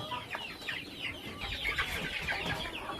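Chickens clucking on a farm in Bohol, a steady flock chorus of short repeated clucks and calls at moderate distance, continuous, with no talk.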